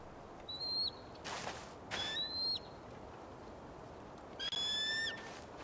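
An eagle in the video game Tell Me Why gives several sharp, high descending calls in separate bursts, fairly close and clear against a quiet outdoor background.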